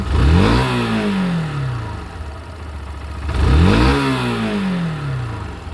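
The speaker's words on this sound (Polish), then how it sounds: "Ładnie się wkręca na obroty, ładnie z tych obrotów schodzi." A 2010 Yamaha YBR 125 Custom motorcycle engine with low mileage blips twice, each rev rising sharply and then sliding back down to a steady idle, close and moderately loud.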